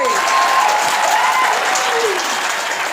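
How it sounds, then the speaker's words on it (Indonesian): A studio audience at a Minang comedy show claps enthusiastically, a dense, loud, continuous wash of applause that holds steady throughout without pause. "kepada penonton dipersilakan tepuk tangan yang meriah"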